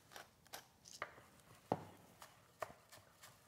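A knife chops fresh chives on a cutting board in a kitchen, giving a handful of quiet, irregular taps spaced about half a second apart, faint and close.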